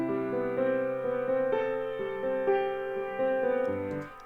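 Sustained harmonic tones through a reverb plugin's bounce mode, with a bouncing, repeating reverb tail that echoes each new note, layered and steady without any voices.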